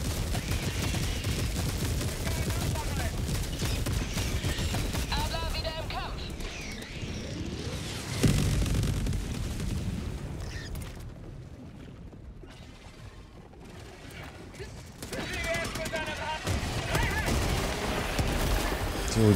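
Heavy gunfire and explosions in the video game Helldivers 2 with the Stalwart machine gun, a loud continuous rattle of bursts and booms that dips briefly then surges again, with voices talking over the battle.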